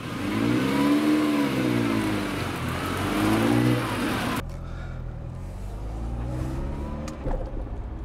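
Ferrari 308 engine revving while driving, a loud, rising and falling engine drone heard from inside the car, then cutting to a quieter, steadier road rumble.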